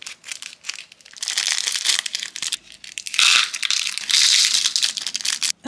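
A crinkly plastic pouch of beads from a cereal-themed friendship bracelet kit is torn open and handled, loud close crackling and crumpling in uneven bursts with short pauses between.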